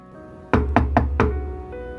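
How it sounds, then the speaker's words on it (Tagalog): Four sharp knocks on a wooden bedroom door in a mansion ring out close and loud in a quick, even rhythm, followed by a quiet room with no voices. "Narinig niyang utos ni Max nang kumatok siya"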